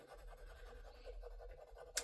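Colored pens shading in a paper cash-stuffing tracker, a soft continuous scratchy scribble of pen tips moving steadily across paper, close and quiet, ending with a brief sharper tap.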